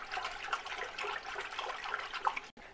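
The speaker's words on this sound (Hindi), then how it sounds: "थोड़ा सा मैंने पानी डाला है" Water is poured into a tub to wash clothes, giving a continuous close splashing and trickling stream that runs almost without a break and then stops abruptly near the end.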